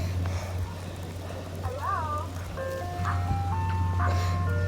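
An ice cream truck plays its tinkling melody jingle, clear and steady over a low engine hum, with people talking faintly nearby.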